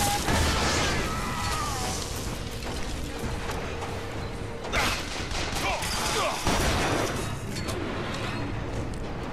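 Weapon fire in BioShock Infinite on PS3 comes as a dense, continuous barrage of overlapping shots and clattering bursts, loud and sustained, with a few sharper blasts standing out from the din.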